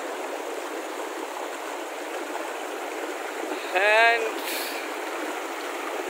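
A cold mountain stream in Kumrat valley rushes loudly and continuously nearby, a dense broadband roar, with a brief voice cutting in partway through.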